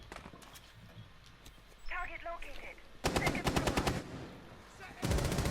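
Pistol fire in Rainbow Six Siege, a competitive esports match, with rapid bursts of sharp gunshots in quick succession and a loud final volley, heard over a caster's voice.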